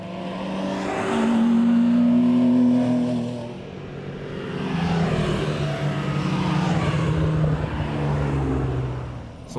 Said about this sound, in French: Une centaine de voitures font vrombir leur moteur dans la célèbre montée